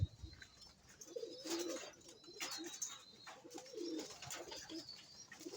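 A young pigeon coos softly in repeated low bursts while being held and handled, with faint rustling and a quiet room around it.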